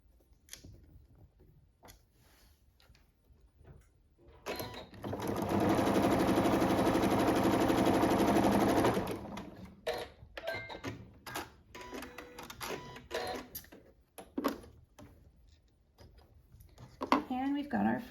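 Sewing machine stitching a seam on a quilt block with background fabric, a steady loud mechanical whir running for about four seconds in the middle, with quiet handling noises and light talk before and after.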